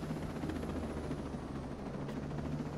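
A helicopter in the Ghost Recon Breakpoint video game keeps up a steady, faint rotor-and-engine drone, even and unbroken, with no voices over it.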